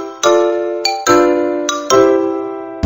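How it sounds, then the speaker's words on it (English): Xylophone notes from a Mickey Mouse Clubhouse musical maze game ring out clearly, four bright struck tones at a moderate pace, each with a sharp attack and a long, slowly fading ring that overlaps the next. "a xylophone sounds like this"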